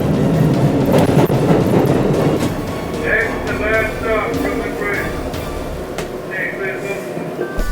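A subway train pulls into a station with a heavy rolling rumble and clatter, then brief high metallic brake squeals. People talk nearby.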